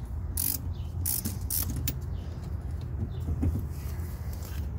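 A wrench works at a bolt on the steering shaft of a Jeep YJ, giving a series of close ratcheting clicks and metallic scrapes in short bursts over a low background hum.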